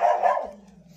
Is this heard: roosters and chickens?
no